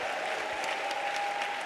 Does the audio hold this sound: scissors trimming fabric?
no